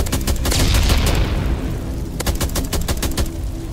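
Dense, loud rapid gunfire and booming blasts fill a SpongeBob shooting video game, with continuous bursts of repeated shots over a rumbling low end.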